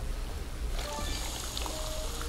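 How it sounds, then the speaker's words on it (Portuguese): Water pours into a bottle in the Adventure Time video game, a soft trickling stream that starts about a third of the way in and runs steadily to the end over a low background hum. "Esqueci de encher isso aqui com água."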